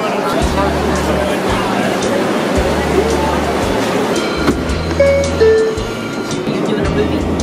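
A New York subway train rolling along, its steady low rumble and periodic rhythmic clatter filling the car, with chatter from passengers heard throughout.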